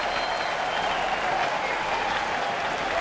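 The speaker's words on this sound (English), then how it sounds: "And the mock cheer for Starling Marte" A baseball crowd at a Pittsburgh home game against Chicago gives a mock cheer for Starling Marte, a steady wash of applause and crowd noise with no break.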